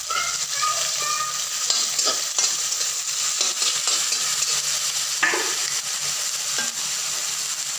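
Spices sizzling and frying in a pan while being stirred, a steady hot crackle broken by repeated scraping strokes of a spatula against the metal, close and fairly loud with no voices.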